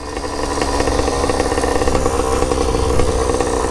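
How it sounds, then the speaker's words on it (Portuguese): A motorcycle engine idles loud and close, its exhaust putting out a steady rough burble with slight pulsing throughout. "É da hora o barulho do escapamento"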